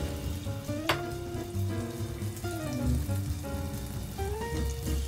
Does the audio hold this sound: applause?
no